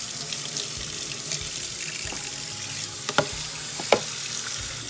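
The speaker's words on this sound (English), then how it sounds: "you want to make sure that they are pretty much rinsed off, that there are no bugs or anything in them" Kitchen tap running steadily into a sink while parsley, cilantro and kale are rinsed, a constant close splashing hiss broken by a few brief knocks and clatters, with no talking.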